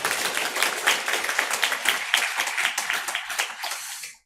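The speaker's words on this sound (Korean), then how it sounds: "박수로 격려하겠습니다" A church congregation claps in encouragement during a Sunday worship service, dense steady applause filling the room for about four seconds before fading out at the end.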